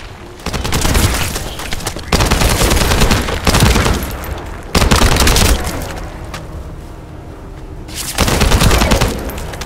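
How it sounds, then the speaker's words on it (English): Bursts of heavy automatic gunfire and booming impacts from the shooter game The First Descendant come in loud repeated volleys separated by short lulls. "That stopped the gunfire."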